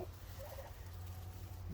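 Turkeys gobble among chickens in a poultry yard, giving short rapid calls at moderate distance over a steady low background hum.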